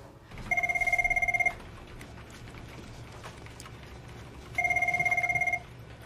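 An office telephone rings in two bursts of rapid trilling bell tones, each about a second long and separated by a pause, with a faint room background beneath.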